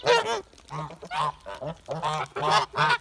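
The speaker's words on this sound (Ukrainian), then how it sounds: "Думаю, що це гуси." Kholmogory geese honk repeatedly and loudly nearby, half a dozen harsh nasal calls coming one after another.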